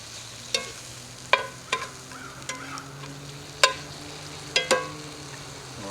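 Steaks sizzle steadily in a pan at a rustic log cabin, with a low continuous fry broken by a few sharp metallic clicks and taps of a utensil; no voices.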